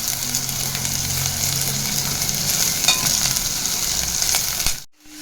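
Onions sizzle and fry steadily in hot oil with roasted chillies, mustard seeds and cumin, a close, continuous crackle with occasional stirring, cutting off abruptly near the end.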